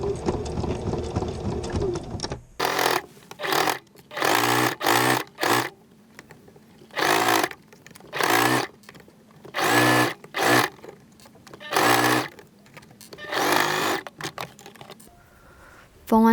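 A sewing machine stitches a hoodie seam in repeated short bursts of loud, rapid mechanical whirring with brief pauses between them, after a few seconds of talking at the start.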